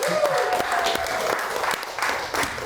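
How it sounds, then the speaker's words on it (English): A studio audience on a talk show breaks into a round of applause, loud dense clapping filling the room with a cheer or whistle briefly rising over it at the start. "So one more round of applause for Joel."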